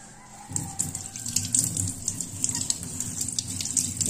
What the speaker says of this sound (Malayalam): ടാപ്പ് തുറന്നിട്ട് പൈപ്പിൻ്റെ അടിയിൽ കാണിക്കുമ്പോൾ തന്നെ അതിൻ്റെ ഉള്ളിൽ കസ്റ്ററുകളൊക്കെ നല്ലോണം പോകും.